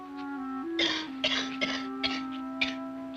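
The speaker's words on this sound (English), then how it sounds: "She's been coughing like that ever since last night." A woman coughs in a series of about five sharp, hacking bursts spaced roughly half a second apart, close and clear over a steady background hum, with no talking.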